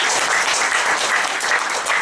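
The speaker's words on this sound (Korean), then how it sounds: "이럴 때도 박수 줍니다." A lecture audience at a Korean keynote on software education claps in a dense, loud, continuous burst of applause.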